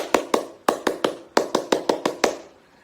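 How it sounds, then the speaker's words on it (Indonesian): Indonesian scout rhythmic clapping, the tepuk pramuka: crisp hand claps in a patterned sequence of quick groups with short pauses, close and clear, ending in a final clap that rings out. "Tepuk pramuka."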